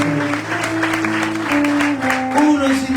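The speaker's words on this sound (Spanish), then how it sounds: "Dale un aplauso fuerte a Dios" A church congregation at a revival service in Paysandú claps loudly for God, the sharp, irregular hand claps layered over sustained musical tones or voices.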